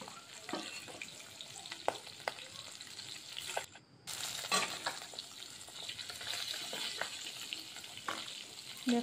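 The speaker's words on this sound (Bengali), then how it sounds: "মাছগুলো আমি ভেজে তুলে নিলাম।" Rohu fish frying in oil in a home kitchen, a steady close sizzle with occasional stirring clicks and a brief drop in sound partway through.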